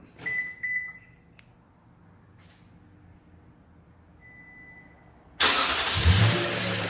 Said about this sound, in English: The truck will start, and then the lights will flash to confirm that the truck started.